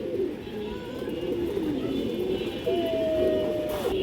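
A pair of matching-coloured pigeons coo steadily and close by in a home loft, their low rolling calls layered with faint bird chatter throughout.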